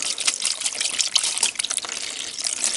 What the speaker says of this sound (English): we're going to pour some Evapo-Rust in there